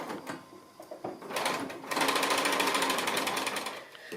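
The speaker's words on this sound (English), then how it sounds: "I'm going to go ahead and start sewing that" A sewing machine stitches fabric for a quilted face mask: a few soft handling clicks, then a steady, fast, close-up run of rapid needle stitching that continues to the end.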